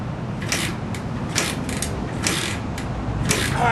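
Start lever on a Benelli Enduro motorcycle worked repeatedly, giving a series of scraping, ratcheting mechanical strokes over steady background noise, with no engine catching.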